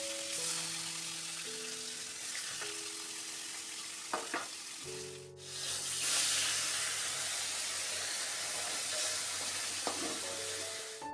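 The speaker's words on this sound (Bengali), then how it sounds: "মাছটাতে এখন নুন হলুদ মাখিয়ে ভাজতে শুরু করব" Fish rubbed with salt and turmeric sizzles steadily in hot oil in a pan, a continuous close frying hiss with occasional brief stirring clicks and no talking.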